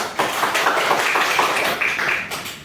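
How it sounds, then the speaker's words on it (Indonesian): Students in a classroom applaud together, a busy, even patter of clapping that holds for over two seconds before tapering off, close and moderately loud with no voices on top. "Mari tepuk tangan."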